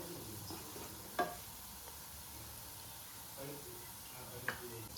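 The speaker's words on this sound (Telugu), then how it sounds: "ఇప్పుడు ఇవి లో ఫ్లేమ్లోనే మనము ఇట్లా ఫ్రై చేసుకోవాలి" Gulab jamun frying gently in oil over a low flame, a quiet steady sizzle with a couple of soft sharp pops and light stirring clicks, no talking.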